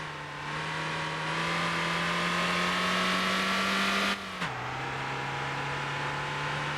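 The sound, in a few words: car engine driving in Motor Town video game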